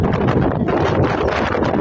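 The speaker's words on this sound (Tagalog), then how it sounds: "Lakas ng hangin, oh." Strong wind roars and buffets the microphone in a continuous rushing blast with no pauses, at an outdoor spot in Oriental Mindoro, Philippines.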